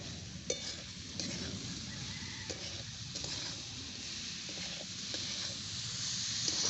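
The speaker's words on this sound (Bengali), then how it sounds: "এবারে আমি চিনি ভালো করে মিশিয়ে নেবো" Carrot halwa with added sugar is stirred in a pan, a quiet, steady sizzle with soft, regular scraping strokes and no talk.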